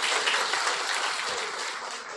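Audience applause at a mass wedding ceremony, a dense, even burst of many hands clapping together, sustained and fairly loud, fading slightly toward the end.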